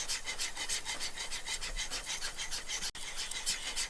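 A hand plane blade is honed on a 16,000 grit sharpening stone, giving a close, quiet rhythm of soft scraping strokes, roughly ten back-and-forth rubs with a brief pause near the end, with no speech.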